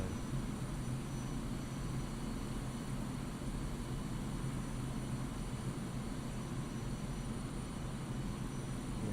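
Su-25 Frogfoot jet engine held at full throttle in DCS World, a steady, dense roar with a faint whine on top, unchanging throughout and heard alone without talk.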